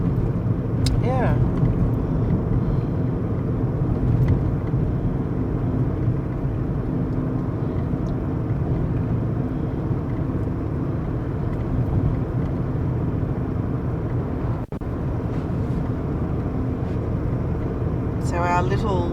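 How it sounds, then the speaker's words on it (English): Steady low road rumble from a small VW Polo hatchback cruising on a Mexican highway between San Miguel de Allende and Guanajuato, heard from inside the cabin as a continuous drone with a brief knock near the end. "our little VW Polo is an absolute legend on the highway"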